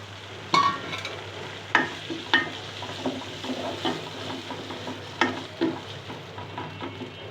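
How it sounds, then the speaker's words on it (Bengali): Prawns fry in a pan, a soft steady sizzle close by, punctuated by a handful of knocks and scrapes from a spatula, with no voices. "এখন দিয়ে দিচ্ছি চিংড়ি মাছ।"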